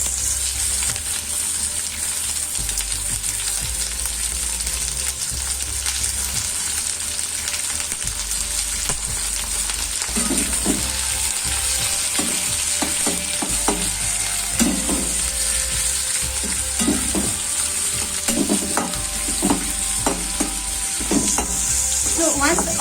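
Onion frying in a pan with oil and cumin seeds for a Bengali prawn malai curry, a steady loud sizzle with intermittent stirring scrapes growing busier in the second half.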